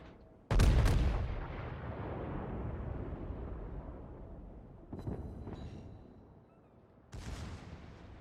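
Heavy high-caliber battleship guns firing in World of Warships, aboard the Iowa: a loud booming salvo that rolls out into a long rumbling decay, with further blasts following and another big report near the end.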